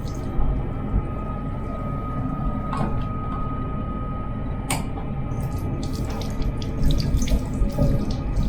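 Water runs steadily from a tap into the sink of an accessible train toilet, a continuous close hiss with a few brief clicks and knocks over the rumble of the moving train.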